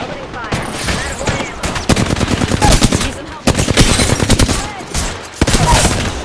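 Rapid automatic gunfire from an Apex Legends ranked match, loud and close, in dense bursts that pause briefly around two, three and a half and five and a half seconds, with faint game voice lines mixed underneath.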